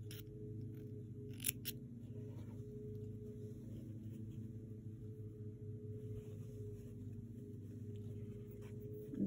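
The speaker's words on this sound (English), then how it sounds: "So we're going to cut from crease mark to crease mark." Scissors cutting fabric from crease mark to crease mark while finishing a cross stitch mini quilt, a few faint snips near the start over a steady low hum.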